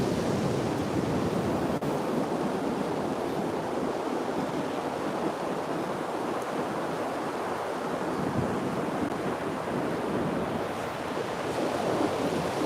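Ocean waves wash steadily in a lagoon, a continuous broadband surf roar with gusty wind rumbling against the microphone, loud and close throughout without any voices.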